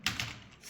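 Two quick keystrokes tap on a computer keyboard during Excel formula entry, close and crisp, followed by a short quiet tail.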